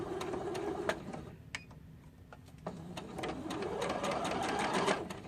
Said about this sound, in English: I'm going to go ahead and sew the straight stitch all the way around it